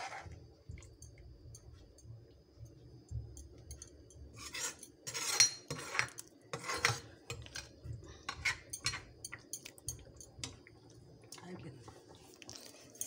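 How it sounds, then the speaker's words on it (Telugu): Paneer curry being stirred in a pot, with scattered clinks and scraping of a spoon against metal that grow busier midway, heard close under ongoing talk. "మళ్ళీ కలుపుకుంటున్నాము"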